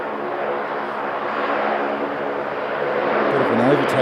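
Jetstar airliner taxiing at Sydney airport, a steady distant engine roar and whine that swells slightly toward the end, with faint voices in the background.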